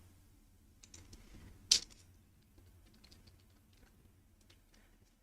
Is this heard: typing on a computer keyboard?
yes